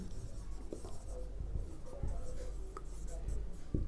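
Pen or marker writing on a board or page during a class 12 accounts lesson on debenture calculations, faint scratchy strokes with light taps, close and quiet, in a room with soft background noise.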